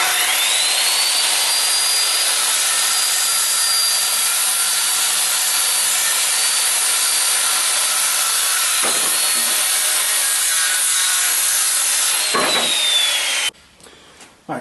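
A skill saw set to about two inches deep cuts clear through a spruce 2x4, a loud, close, sustained high whine of the blade biting wood. The motor then spins down at the end, followed by short bursts.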